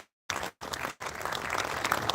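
A crowd claps at an oral health conclave after a speech; the applause starts after a short silence, breaks off twice, then swells and holds steady and fairly loud.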